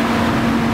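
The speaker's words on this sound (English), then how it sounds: "Doesn't make much noise other than the fan whirring." Toyota truck engine at idle with a belt-driven mechanical fan, a brief steady hum and whir with a firm tonal drone.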